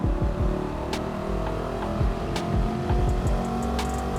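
The engine of a Mangusta '69 on the Monza circuit in Gran Turismo 7 revs high and steadily, with quick upshift sweeps repeating as the car accelerates under throttle, loud and close.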